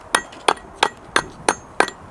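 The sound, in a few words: hammer and chisel trimming old stonework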